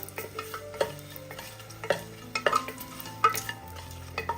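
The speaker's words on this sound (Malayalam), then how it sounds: "സ്പൈസസ് ഒക്കെ ഒന്ന് മൂത്ത് വരണം." Whole spices and dried red chillies frying in a pan over a low flame for an egg dish, with a soft steady sizzle under repeated close spoon scrapes and clicks as they are stirred.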